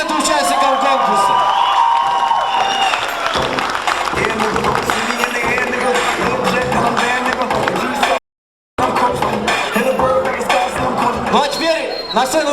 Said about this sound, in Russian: Еще раз аплодисменты участникам конкурса.